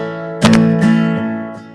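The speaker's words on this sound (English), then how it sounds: "And then you throw on that bar chord, so it sounds like this." An acoustic guitar in standard tuning rings out a bar chord, two quick strums followed by a third, then sustaining and fading, close and clear.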